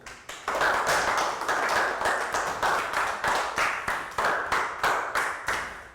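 Students in a classroom clap in unison, a run of sharp, evenly spaced group claps repeating steadily up close, with no talking over them.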